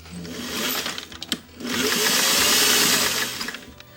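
A sewing machine stitches a coat under repair, its needle running in a steady rapid whir, stopping briefly, then starting again in a longer, louder run up close.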